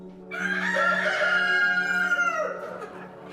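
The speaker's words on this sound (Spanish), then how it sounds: "Y entonces el gallo cantó." A rooster crows once, a loud, drawn-out cock-a-doodle-doo with a rising and falling harmonic call, close by and alone.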